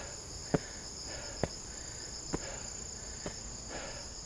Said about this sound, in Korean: 벌레 소리도 들리고